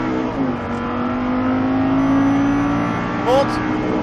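An Audi R8 accelerates at full throttle on a race circuit, its engine note rising steadily in pitch through a gear before a brief squeal-like shift near the end. Loud and close inside the car, with an instructor's voice talking over it.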